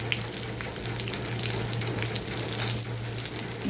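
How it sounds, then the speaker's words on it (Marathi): Eggplant frying in hot oil with turmeric and coriander powder gives a dense, continuous sizzle and crackle at close range, steady throughout and with no talking. "चांगलं व्यवस्थित परतून घ्यायचं आहे."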